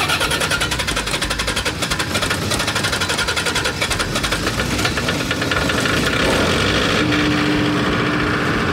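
Diesel engine of an MEP-803A military generator, slaved from an LMTV truck, starting up and running with a rapid, loud knocking clatter that settles into a steady idle, close by.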